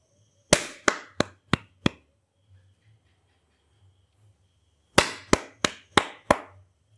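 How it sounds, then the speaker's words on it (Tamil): Two sets of five sharp hand claps, evenly spaced and crisp, separated by a quiet pause with faint low background hum. "கைதட்டு."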